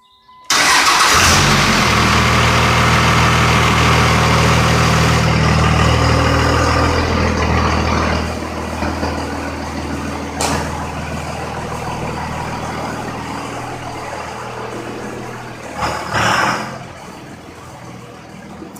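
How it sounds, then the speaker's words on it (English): A 1999 Dodge Cummins diesel pickup with a five-speed manual and over 300,000 miles cranks and fires up at once, then settles into a loud, steady close-up idle with a brief rev near the end. "you've seen how easy that started up"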